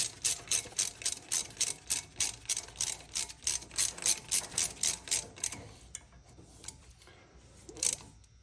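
A hand ratchet tightens a brake caliper bolt during a brake pad, caliper and rotor job, giving a fast, even run of crisp clicks close to the mic for about five seconds, then a pause and one more click.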